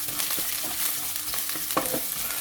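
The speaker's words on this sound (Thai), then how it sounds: "ใส่น้ำมันลงไปเล็กน้อยนะครับ แล้วก็ขิงแก่กับต้นหอมหั่นท่อนนะครับ เราจะผัดเขาก่อนเลยครับ" Oil sizzles steadily in a pan as ginger and spring onion are stir-fried, a spatula scraping and stirring, with faint clicks of food being tossed; no voices.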